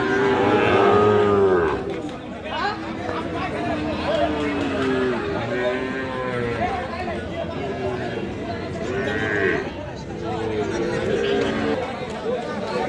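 Sahiwal cattle, bulls and calves, low at a busy livestock market. Drawn-out moos rise and fall throughout, mixed with steady crowd chatter and hubbub.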